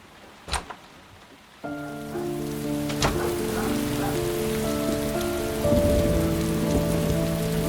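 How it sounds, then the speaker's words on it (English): Steady rain patters on a surface, starting after a couple of sharp taps, with soft music tones sustained underneath, in the video game Heavy Rain. "It's raining. I'd better get back inside."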